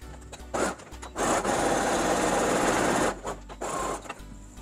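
Sewing machine stitching a seam on a semi-Patiala salwar pant, running in loud steady bursts with short pauses between, the motor whirring alone without talk.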